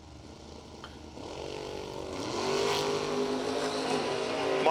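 A drag race launch of a 1996 Dodge Avenger-bodied car powered by a 540-cubic-inch big block Chevrolet: engine roar builds steadily from a low rumble to a loud, sustained howl, with no talk over it.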